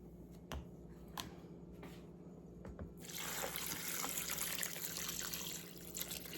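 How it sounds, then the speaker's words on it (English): Water runs from a tap into a crock pot of beans, a steady broad rush that starts partway through after a few faint clinks and continues loud and close to the end. "put the water in here"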